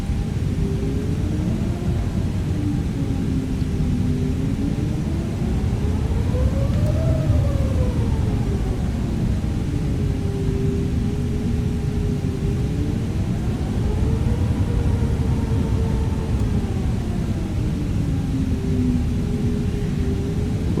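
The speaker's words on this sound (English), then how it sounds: "So now I'm going to taxi out of here and get ready for takeoff." An airplane in a flight simulator game taxis toward the runway, making a loud, steady engine drone with rising and falling whining tones throughout and no speech.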